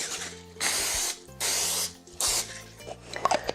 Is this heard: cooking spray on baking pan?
yes